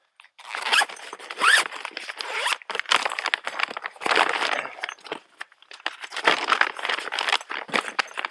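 A zipper running around an ICECO GO20 fridge cover is pulled in a long series of short, raspy strokes, close by, with brief pauses between runs as it travels around.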